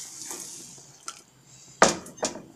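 A utensil scrapes and clinks against a pot while flour paste dissolved in water is stirred into boiling water, a few scattered knocks and metallic taps, the sharpest two near the end, with a faint wet hiss between them.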